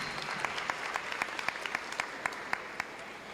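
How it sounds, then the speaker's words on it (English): Steady, fairly distant applause from a packed audience in a graduation auditorium, a broad sustained rush of many hands with a few sharper individual claps standing out. "that deserves a huge round of applause"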